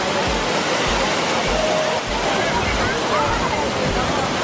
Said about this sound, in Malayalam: വെള്ളച്ചാട്ടം ഇവിടെ വീഴുന്നത്